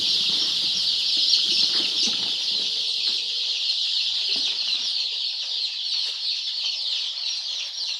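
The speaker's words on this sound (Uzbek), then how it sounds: "bular hammasi Andijon qora jo'jalar." A crowd of Andijan black chicks keeps up a dense, continuous chorus of peeping and clucking at close range, with a few wing flutters.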